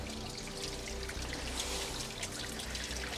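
Water trickles and drips steadily inside a small side cave, a continuous close wash of flowing water with no voices.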